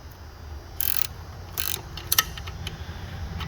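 A Craftsman dual ratcheting wrench clicks through its ratchet mechanism in a few short, bright bursts of rapid ticking, close up and with no talking.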